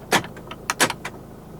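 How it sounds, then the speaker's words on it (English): Central locking on a 2019 Hyundai Tucson 2.0 CRDi actuates in a few sharp mechanical clunks, one strong thump followed by a quick double clack and a lighter click, heard close inside the cabin with no talk. "Central locking"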